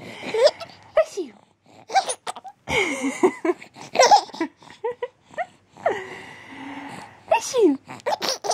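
An adult voice imitates sneezes again and again, each one followed by a small child's bursts of giggling and laughter, with bits of talk in between.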